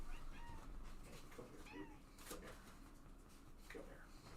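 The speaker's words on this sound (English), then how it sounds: "The kitty wants to say hi." A pet cat meows a few times indoors, soft and somewhat distant, over a steady background hum, with a person talking quietly alongside it.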